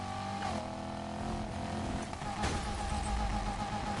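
A throaty 6.2-liter V8 in a Nissan in the video game Need for Speed Heat runs steadily with a couple of revs, loud and close, with faint voices mixed underneath.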